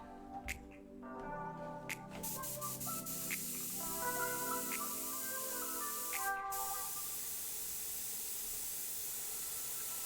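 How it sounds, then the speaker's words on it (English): An airbrush blows a steady, close hiss of air over a freshly painted miniature to dry it, coming in after some brief tonal clicks and continuing evenly to the end. "Speeding it up with a good old airbrush."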